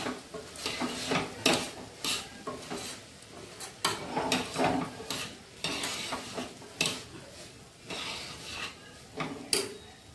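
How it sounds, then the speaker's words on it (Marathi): Washed rice being sautéed in a pan, with continuous close-up stirring, scraping and rattling against the metal in uneven bursts. "तांदूळ जे धुवून ठेवले ते टाकून घ्यायचे, परतून घेऊया आपण"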